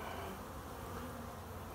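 Honey bees swarm around an opened hive during a late-season inspection before wintering, a dense continuous buzz heard close and faint.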